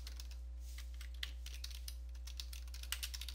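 Quick keystrokes tapped on a computer keyboard, a short run of light clicks close up over a steady low electrical hum, with no talk.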